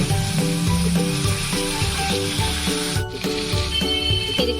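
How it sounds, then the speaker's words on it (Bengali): Tomato paste frying in hot oil for a pabda fish curry sizzles loudly and continuously, close up, with faint stirring movement underneath and no talking. "টমেটো পেস্টটা খুব সুন্দরভাবে ভাজা হয়ে গেছে"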